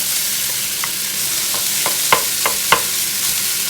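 Rice stirred into sizzling meat in a hot pan for jambalaya, a steady frying hiss with a handful of soft scraping stirs and clicks.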